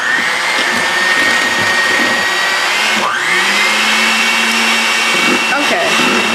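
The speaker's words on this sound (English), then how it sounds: "Now we're going to use our hand mixer and beat this until it's light and fluffy." An electric hand mixer whirs loudly and steadily as it beats cheesecake batter, with a brief change in pitch partway through and short bumps as the beaters move in the bowl.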